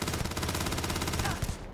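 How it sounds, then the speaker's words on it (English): Rapid, sustained gunfire from the video game Temple Zeta as guards are shot, a loud, evenly pulsing stream of shots that cuts off abruptly near the end. "you can shoot guards"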